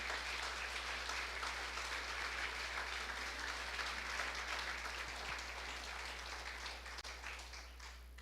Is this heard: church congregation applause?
yes